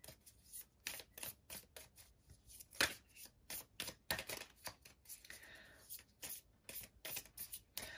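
A deck of Love Oracle cards is shuffled during a tarot reading, making repeated crisp riffling and flicking bursts up close in an uneven rhythm.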